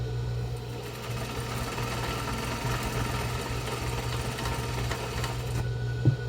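A sewing machine runs steadily, stitching a half-inch seam on a box-style fabric face mask, its close, even motor hum continuous throughout with a small click near the end.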